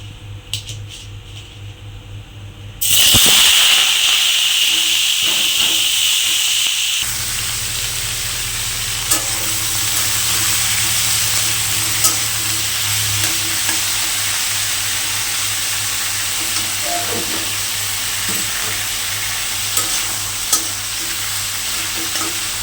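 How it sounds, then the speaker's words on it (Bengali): Oil heating in a kadai for soya chili: a sudden loud frying hiss bursts in after a few seconds of quiet, stays bright for a few seconds, then settles into a steady, softer sizzle with small pops throughout. "আমার দুদিকে কড়াইতে তেল গরম হচ্ছে, এদিকে বড়া ভাজবো"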